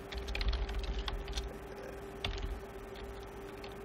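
Computer keyboard typing while code is written, a steady run of light key clicks with a constant electrical hum underneath and faint room noise.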